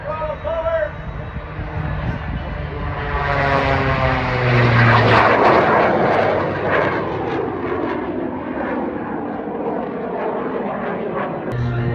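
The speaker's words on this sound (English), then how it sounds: "Get as much speed as possible from the jet throttle forward." A jet aircraft dives toward the ground at full throttle during an airshow at EAA Oshkosh, Wisconsin, its loud engine roar swelling and sweeping in pitch as it passes, with a voice talking over it.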